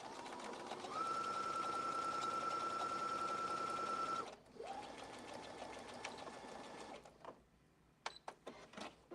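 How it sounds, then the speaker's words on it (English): A sewing machine lock-stitches bag seams, running in a long steady whirring burst, pausing, running again, then ending with a few short clicks and stops. "And lock stitch everything."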